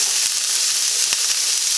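Onions sizzle steadily in a hot electric frying pan, a dense crackling hiss with a few soft pops and no voices.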